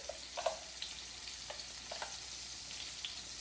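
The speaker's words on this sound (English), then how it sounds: "I will put all the paste which I have made it to cook properly." Pav bhaji spice paste frying in a pan, a soft continuous sizzle with occasional spitting pops and light stirring scrapes, close and fairly quiet, without speech.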